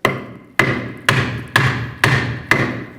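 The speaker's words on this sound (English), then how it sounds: "Now I'm just going to go ahead and give this a couple light bonks." Six evenly spaced light hammer taps ring out on a Kia Sorento rear shock absorber, each a sharp metallic knock with a short ringing decay, close and loud, with no talking.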